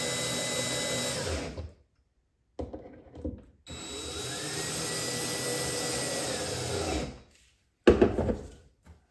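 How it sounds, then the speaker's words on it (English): A power drill driving screws into the wooden wheelbarrow boat build, several sustained whirring bursts that each ramp up and run for a few seconds, separated by short silences and ending with a brief rattle. "You can do this by hand or with a drill, whatever is more convenient for you."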